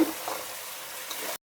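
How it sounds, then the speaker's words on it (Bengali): Boiled beef head meat being sautéed in a pan, giving a steady, hissing sizzle at close range that is brief and uniform, then cut off abruptly. "আমি মাংসটাকে নিয়ে ভালোভাবে কষাই নিব।"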